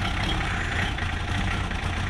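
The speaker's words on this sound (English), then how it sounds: "That's the sign of a healthy engine." An LDV 400 van engine, just started after a year of neglect, idles steadily with a continuous low rumble and broadband mechanical noise, close and loud with no talk.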